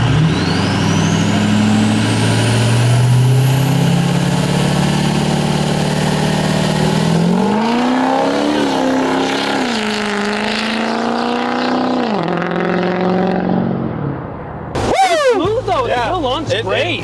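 A modified 6.0L Powerstroke diesel truck built to about 1200 horsepower accelerates hard through a 0 to 60 run, its engine note climbing loud and steady, then shifting, with voices shouting over it near the end.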